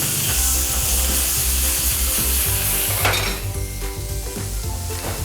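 Garlic sizzling hard in a hot pan of oil, shrimp in coconut cream in the making: a loud, steady frying hiss with light scraping and clinks of a utensil, unbroken throughout.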